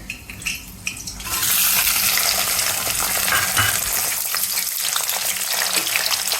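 Tomato puree hitting hot oil in a pan for a Punjabi dinner gives a loud, steady frying sizzle that rises suddenly after a quieter start and keeps going with light stirring and utensil clinks.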